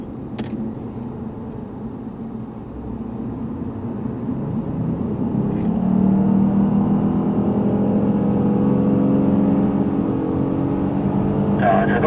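A Lexus GS450h hybrid sedan circles the Yongin Speedway track, its engine drone steady and rising into a sustained, louder hum midway, with tire and wind noise continuous throughout.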